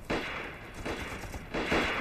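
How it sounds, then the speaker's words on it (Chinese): Gunfire in a war film about fighting Japanese troops, with several quiet sharp reports in a short burst at a distance, no speech over them. "院子怎么有枪声啊？"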